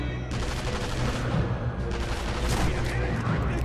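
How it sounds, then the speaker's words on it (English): Dense, continuous gunfire and rapid shots in the Sniper Elite V2 video game, loud and close throughout, with a player talking briefly over it. "Who the hell's shooting us?"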